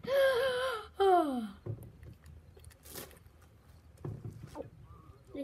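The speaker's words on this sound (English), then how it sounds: "I'm just yawning." A person gives a long, drawn-out yawn with a wavering vocal tone, then a second shorter yawn, followed by quiet outdoor background during an apple harvest.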